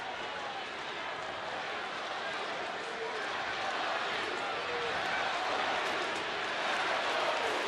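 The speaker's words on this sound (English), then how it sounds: "And the crowd getting the Napoli chant going" Baseball stadium crowd at an Oakland at Texas game chanting for Mike Napoli, a dense continuous roar of many voices filling the air steadily, with no distinct speech standing out.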